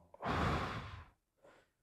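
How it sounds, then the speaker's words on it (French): A long, deep exhaled breath is taken during a hypnosis session, loud and close, followed after a pause by a shorter, softer breath. "Alors, une respiration."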